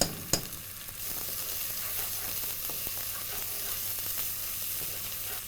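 Green chili sizzles in hot oil in a frying pan, a bright continuous crackle after a couple of sharp clinks from the utensil, close and unaccompanied by speech.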